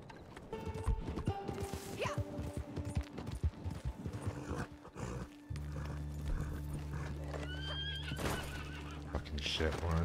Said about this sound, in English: Gonna get rid of this bloody horse.